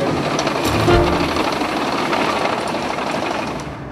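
A road grader's blade pushes gravel into a flat area for road building. There is a continuous loud rumbling, grinding roar of engine and scraping stones, fairly close and steady throughout.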